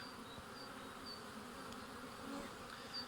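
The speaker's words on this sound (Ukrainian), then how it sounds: "бджілки облітуються, також почали вже носити пилок" Honey bees flying around the hive on a warm February day, a steady close buzzing drone with individual bees passing by, no voices.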